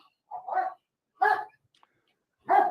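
A police dog at a traffic stop, working around a car, barks three separate times with short silent gaps between them. The barks are sharp and moderately close, with no talk between them.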